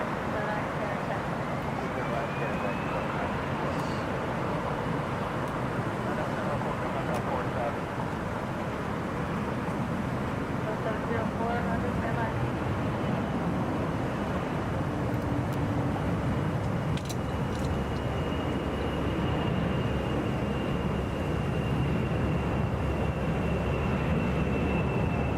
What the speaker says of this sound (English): That is Delta 2708 to Pittsburgh on a Boeing 737.